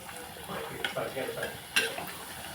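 Puris dropping one at a time into hot oil, a soft sizzle with occasional stirring clinks and splashes, fairly quiet and close.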